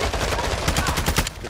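Bursts of gunfire in the Call of Duty DMZ game on the Ashika map, dense rapid shots running through the whole stretch over a busy low rumble, with faint voices underneath.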